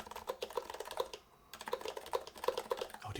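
Typing on an HHKB Pro keyboard in an aluminum case without feet, with fast, steady clacking keystrokes and a short pause midway, close and fairly quiet, with no talk.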